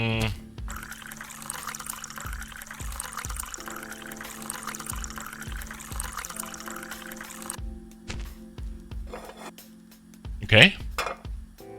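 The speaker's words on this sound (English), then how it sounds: "So, add water to a pan and pancake mix." Water poured into a pan in the cooking game Zipp's Cafe, a continuous splashing pour over a rhythmic tapping background, ending with a short sharp clatter as it stops.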